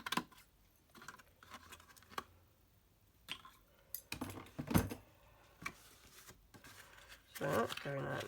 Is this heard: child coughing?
no